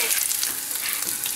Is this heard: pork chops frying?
yes